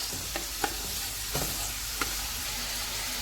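Beef browning in a hot pan over high heat, a steady frying hiss with a few sharp stirring clinks and scrapes scattered through it, no voices.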